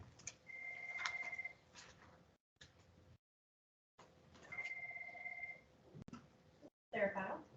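Telephone ringing in two long repeated electronic trills with a pause between, fairly close in a quiet room, followed by a brief handling noise.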